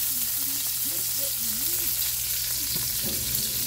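Porterhouse steaks sizzle in a hot pan with a steady, close frying hiss, while a voice talks over it throughout, its pitch rising and falling above the crackle.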